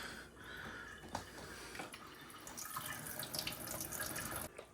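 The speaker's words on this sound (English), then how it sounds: "Drain all the water out." Water draining and trickling out of a Frigidaire ice maker, a soft, steady splashing flow with a few faint drips, heard close and quiet with no talking.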